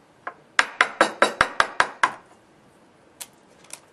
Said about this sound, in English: And then we break the normal egg.